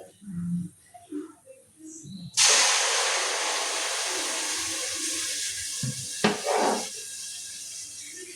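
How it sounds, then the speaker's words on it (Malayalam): A sudden loud rushing hiss as milk is poured into a hot pan of roasted vermicelli, steady and close, fading slowly, with a brief clatter near the end. "പാലൊഴിച്ച് കൊടുക്കാം."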